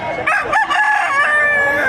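At a chicken livestock auction market in Padre Garcia, Batangas, a rooster's drawn-out crow rings loud and close, with other birds and crowd noise blending beneath it.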